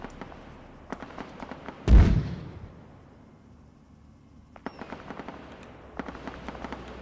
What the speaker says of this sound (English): Fire artillery.